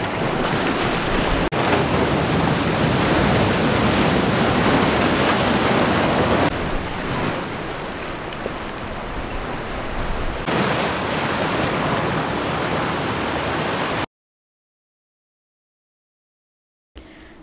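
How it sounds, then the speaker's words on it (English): Waves wash steadily onto a Bahamas beach at sunset, a loud continuous surf roar mixed with wind buffeting the microphone, cutting off to near silence for the last few seconds. "Right now we are at this beautiful beach watching the sunset"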